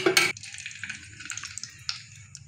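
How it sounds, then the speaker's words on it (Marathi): Mustard seeds tossed into two spoons of hot oil in a kadhai crackle and pop after a brief clatter at the start, with quick, irregular spits continuing close up. "आता मोहरी व्यवस्थित तडतडू द्यायची आहे"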